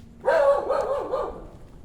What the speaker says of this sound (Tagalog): Ito yung naririnig yung aso.